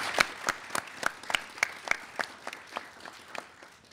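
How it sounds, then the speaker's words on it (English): Applause for middle school quiz show contestants: a thin scattering of claps, with distinct individual hand strikes spaced roughly every third of a second over a soft crowd bed, fairly quiet and slowly tapering. "Let's have a big round of applause once more for all of our amazing contestants"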